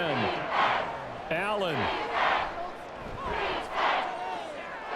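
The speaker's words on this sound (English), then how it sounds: "this crowd is making an impact right now" A stadium crowd roars in waves in a simulated NFL game between the Buffalo Bills and Houston Texans, swelling loudly and falling back repeatedly beneath an announcer's voice.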